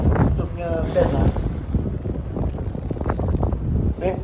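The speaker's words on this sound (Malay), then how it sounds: "Syok siul angin dia." Strong wind gusts buffet the microphone outdoors in Johor, a loud, close, continuous rushing roar with faint whistling tones, and people talk underneath.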